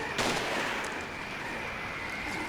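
Gunfire in the video game Siren, a sharp shot at the start followed by a dense, noisy rumbling wash that stays loud and close throughout.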